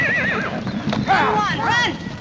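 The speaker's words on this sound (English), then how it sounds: "You stampeded our horses!" Horses neigh and whinny repeatedly, loud and close, over clattering hooves during a stampede in a 1954 western, with shouted voices mixed in.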